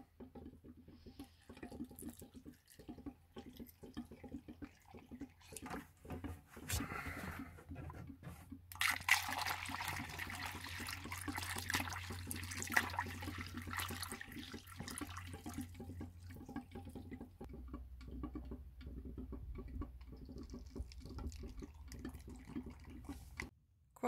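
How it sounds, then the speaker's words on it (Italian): Water runs steadily while a camper van's water supply is refilled with a makeshift setup in place of a hose connection, a continuous splashing stream that grows fuller and louder midway, with no talk. "uno si crea il proprio sistema per ricaricare l'acqua"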